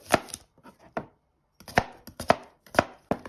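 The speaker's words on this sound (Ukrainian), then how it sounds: "нарізаємо всю цибулю і підсмажуємо на сковорідці" A knife chops onions against a cutting board in irregular bursts of sharp, close taps with brief pauses between, and no voices.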